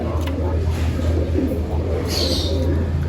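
Pigeons in a loft coo and murmur at close range over a steady low hum, with a faint brief higher call partway through.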